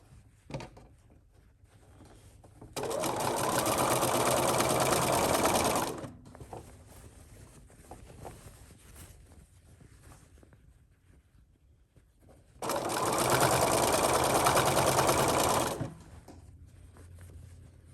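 A sewing machine stitches a curved waistband with a rolled top seam in two separate runs of about three seconds each, a rapid, even whirring chatter that stops cleanly between bursts, with quiet handling noises in the pauses.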